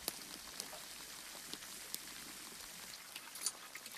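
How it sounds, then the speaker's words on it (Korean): Steady, faint crackling sizzle of dumplings frying in oil at 165°C, a continuous hiss with scattered small pops. "오케이, 그럼 만두 튀긴다"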